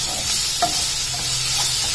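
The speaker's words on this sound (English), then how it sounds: "So I have been stirring it a couple of times in between." Homegrown radish greens are stirred in a sizzling pan, with soft scraping strokes over a steady frying hiss, close by and without talk.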